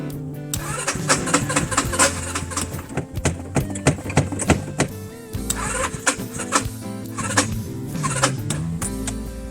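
A truck engine cranks over and over on a weak battery, producing a fast rhythmic churning of starter strokes in uneven bursts with short pauses, loud and close, and never catching.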